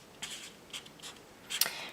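A pen or marker writes a math expression by hand, a few soft quick scratchy strokes in short bursts, faint and close, with no talking.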